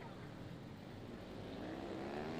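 Dirt-track race bikes and quads roar around the track three wide into a turn, a dense continuous engine drone with rising pitch as they accelerate, steady and loud throughout.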